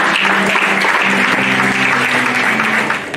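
A church congregation claps continuously and loudly in praise of the Lord, a dense, sustained applause with scattered voices mixed in, gradually fading near the end.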